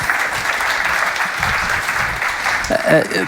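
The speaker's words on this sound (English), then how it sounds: "Hand of applause." A panel discussion audience applauds with continuous, fairly loud clapping, and a voice starts talking over it near the end.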